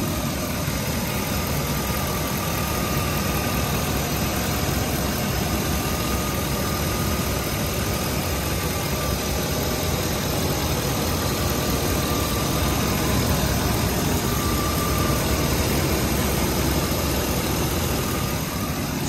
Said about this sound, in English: And this is the engine. This is how it sounds